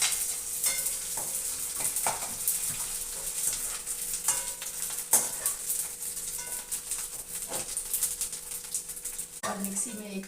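Methi laddu mixture roasting in a pan, with steady sizzling and repeated scraping and stirring of a spoon against the metal, close and fairly loud, ending in a brief clatter.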